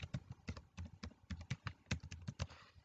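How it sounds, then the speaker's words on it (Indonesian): Keys tap on a computer keyboard as a password is entered, a quick irregular run of close, crisp clicks with short pauses between bursts and no voices. "konfirmasi password ini kita mengetikkan kembali password yang ini"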